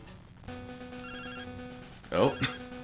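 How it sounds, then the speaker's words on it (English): In Pokémon Crystal, a chiptune phone-ringing jingle of repeated electronic tones plays fairly quietly, followed by a burst of louder talk near the end. "getting another phone call"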